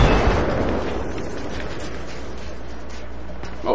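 A tank blows up in the video game Battlefield 3 during a Conquest match, a loud sustained rumbling blast that dominates the clip and then fades into a steady low roar.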